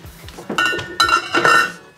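A metal lid set down over a dosa pan with a few clanking and clinking knocks, close and fairly loud, from a Jaffna-style kitchen cooking red-rice kundu dosa.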